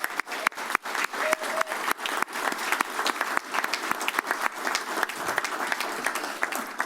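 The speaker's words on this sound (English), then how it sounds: "So one more round of applause for everybody." An audience at a Santa Cruz County Board of Supervisors meeting applauds, the clapping steady and fairly close, with some louder individual claps standing out and a few faint voices beneath.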